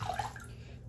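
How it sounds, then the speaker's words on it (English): Water splashing softly as a face is wetted with cupped hands before shaving, a brief, quiet wash of sound. "Well, first I wet my face."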